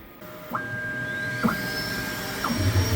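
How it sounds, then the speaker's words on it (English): A Creality K1 Max 3D printer running a fast Benchy print at 0.4 mm layer height, with a steady motor whine and repeated sharp tonal chirps as the head changes direction. "I'll go ahead and send this to my printer, and let's start printing"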